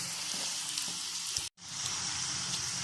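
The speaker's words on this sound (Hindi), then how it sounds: "इसी तरह हम फ्राई सारे करते जाएंगे" Gol gappay puris fry in hot oil with a bright, steady sizzling hiss, close and continuous, broken by one brief silent cut midway.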